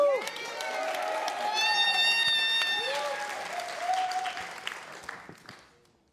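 A graduation celebration audience claps and cheers loudly, with a sustained burst of applause, whoops and a voice shouting over it, fading out at the end.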